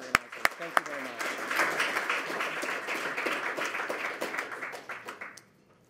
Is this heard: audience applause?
yes